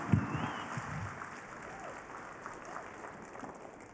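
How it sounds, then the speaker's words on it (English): A keynote audience claps at a low, distant level, a soft sustained wash of applause heard from across a large hall with a brief voice near the start. "Give him a big round of applause."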